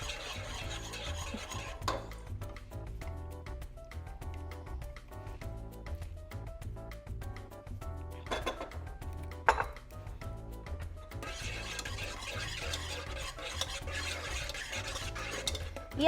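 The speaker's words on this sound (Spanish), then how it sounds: "lo que vamos a hacer es integrarla con nuestra salsa bechamel y lo vamos a revolver" A spoon stirs béchamel sauce enriched with cream and egg yolk in a pot, giving soft, steady scraping and swirling under continuous background music.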